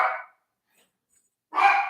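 Two short bursts of dog barking, one at the start and one near the end, separated by silence; fairly close and moderately loud, with no talk over them.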